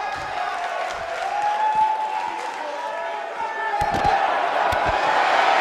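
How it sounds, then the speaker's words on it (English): Wrestling arena crowd in the video game WWE 2K19 keeps up a steady roar and cheer throughout, with occasional thuds, under commentary speech. "We've got an animated crowd."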